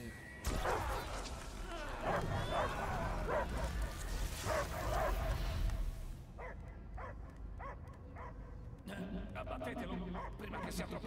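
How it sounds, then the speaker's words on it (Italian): Dog barking in Marvel's Guardians of the Galaxy video game, with repeated barks and yips mixed into loud game action and crashing, then quieter scattered barks while characters talk over it. "Io sento solo abbaiare!"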